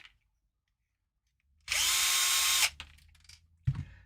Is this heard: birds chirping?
no